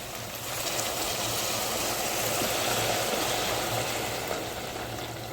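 Hot water poured into a vegetable curry in a pan, a steady rushing, gurgling pour heard up close for several seconds, with no speech.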